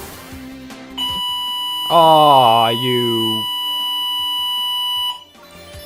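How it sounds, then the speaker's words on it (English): An indoor fire alarm blares a loud, steady electronic tone for several seconds while someone speaks briefly over it, then the alarm cuts off. "Sorry, that's a fire alarm."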